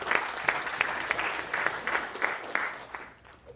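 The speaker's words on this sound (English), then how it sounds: "I think we should clap for that." An audience at a community foundation honoring event applauds, a moderate burst of clapping from a crowd lasting a few seconds before fading slightly at the end.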